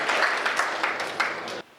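Audience applause at a Hindi comedy show for comedian Anil Chaubey, a dense wash of clapping from a large crowd that carries on steadily, then cuts off abruptly.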